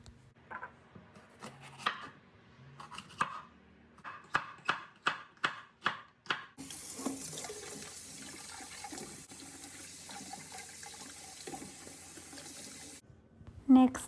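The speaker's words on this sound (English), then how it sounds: "I slice the bell peppers, as you can see here" Bell peppers are sliced on a cutting board with a quick series of crisp, evenly spaced knife chops, followed by a long stretch of running tap water filling a pot.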